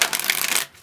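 A deck of tarot cards is shuffled during a pick-a-card reading: a quick, close, papery riffle with no talk that lasts under a second and then stops abruptly.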